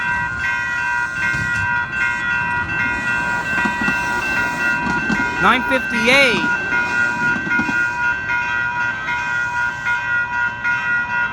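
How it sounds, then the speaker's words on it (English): A one-car VTA Blue Line light rail train passes with a steady rumble and wheel clatter, a rising and falling electric whine in the middle, and a voice speaking briefly over it. "Here comes Blue Line Baypointe train. It's a one-car train, I noticed."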